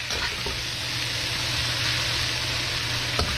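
Vegetable lo mein noodles fry hard with soy sauce in a hot pan, giving a steady, loud, close sizzle that runs throughout with a brief clatter of stirring near the end; no talking.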